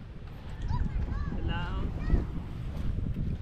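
A small wooden outrigger boat is tested on the water: wind buffets the microphone over a low rumbling wash, and voices talk throughout.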